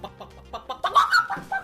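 A voice imitates a hen scurrying about and clucking, a quick run of short, close clucks that speeds up into a louder burst of excited cackling.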